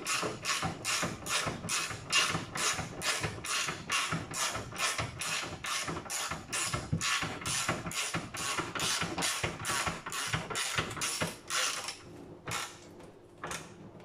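Small ratchet wrench clicking in quick regular strokes while tightening a suspension arm bolt on a Renault Megane 2, loud and close, a steady metallic ticking that slows and thins out near the end.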